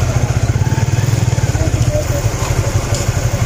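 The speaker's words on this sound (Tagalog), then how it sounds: "Bike." A motorcycle engine rumbles steadily up close with a fast, even low pulse. Voices talk over it at times.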